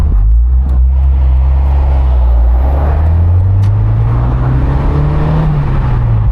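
A Mazda MX5 engine drones steadily at close range while driving, its low rumble rising in pitch as it pulls through the gears, with no talking.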